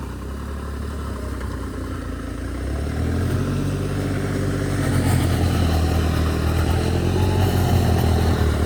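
A small rice transplanter engine runs steadily in the field, chugging louder after a few seconds and holding a constant rumbling drone close by.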